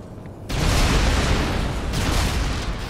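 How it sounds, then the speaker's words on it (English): Explosions in the video game Dead Rising 3: a heavy boom bursts in and becomes a sustained roar of rumbling explosions, loud and dense with deep low-end, fading slightly toward the end. "All the explosions."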